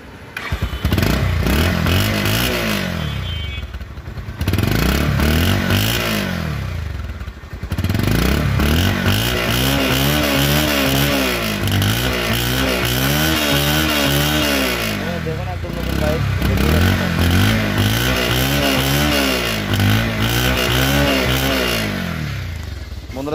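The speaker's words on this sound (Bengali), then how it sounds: "এখন বন্ধুরা দেখা হচ্ছে বাইকের সাউন্ড কোয়ালিটি এবং পারফরমেন্স" A second-hand Bajaj Pulsar 150cc motorcycle with about 1,608 km on it runs loud and close, its engine repeatedly revved and let fall back to idle in rising and falling bursts, with a brief lull and no talking.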